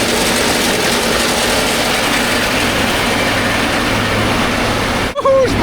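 A tractor with a newly fitted engine runs steadily during the grain harvest, a loud continuous engine drone throughout, with a brief knock and dip near the end.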